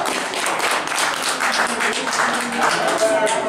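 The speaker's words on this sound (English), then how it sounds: "let's all the regulars give our newcomers a round of applause" Regulars in a small lounge at a Tuesday open mic clap for newcomers, a brisk, close patter of many hands with voices talking and calling out over it.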